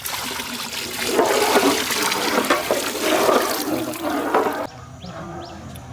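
Plain water gushes into a cooking pot for a river fish curry, a close, steady splashing pour that swells, then stops abruptly near the end.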